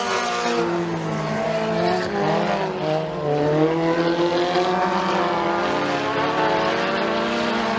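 Race cars roar around the dirt track at McKean County Raceway, engines droning loudly and continuously with shifting pitch as the pack runs down the back straightaway during a heat race.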